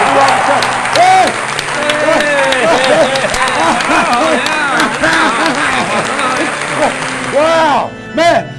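A studio audience on a live evening show applauds and cheers for guest Robert Scott: loud, continuous clapping mixed with whooping voices, ending in a sharp shout and a final flurry.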